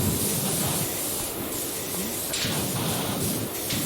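Pressure washer sprayer in PowerWash Simulator, a continuous loud hiss of spraying water that runs steadily throughout, close and unbroken.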